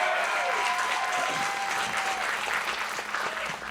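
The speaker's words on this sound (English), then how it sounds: "I just want a little round of applause for all the bald fellas in the room" Audience at a stand-up comedy show clapping in a steady, dense round of applause, loud and close throughout, with a few whoops and cheers mixed in.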